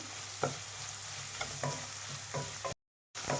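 Sliced vegetables, capsicum among them, being stir-fried and tossed with salt in a pan for street-food-style egg noodles. A steady sizzle is punctuated by a scraping stir roughly every second, with a brief dropout near the end and no voices.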